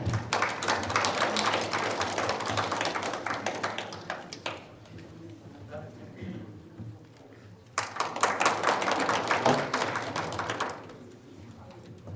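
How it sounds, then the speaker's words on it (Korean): Applause for a guest speaker at a Korean fire-safety monthly event, dense clapping in two bursts separated by a quieter lull with murmuring, fairly close and loud. "큰 박수로 맞아주시기 바랍니다."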